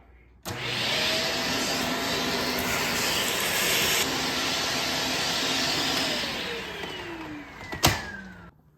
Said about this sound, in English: I am gonna go ahead and just vacuum this area really quick